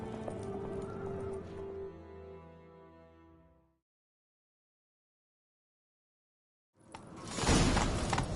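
Horse hooves in The Witcher video game on PS5 during a chase, a rapid rhythmic galloping clatter under a swelling musical tone that fades into silence, then a sudden loud burst of movement and rushing noise returns.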